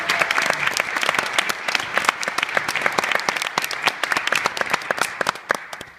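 A wedding-reception crowd applauds a couple celebrating their 39th anniversary, giving steady, loud, close clapping from many hands with no talk over it.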